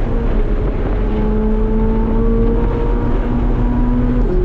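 Chevrolet Corvette C8 Z06 engine on the Willow Springs race track, a loud, steady high-revving drone heard from inside the car with a rising pitch that holds throughout.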